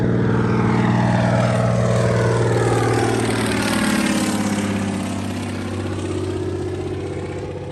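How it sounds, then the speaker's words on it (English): A seaplane's propeller engine near Hobart on the Derwent, a loud close droning roar with sweeping pitch changes as it runs up and passes, gradually easing in level, no voices. "If you can't sail it, why not have a go on a seaplane?"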